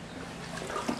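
Kayak paddle splashing water beneath a bridge on a causeway, a few soft sloshes and drips building toward one brighter splash near the end, close to the boat with steady water noise and no talk.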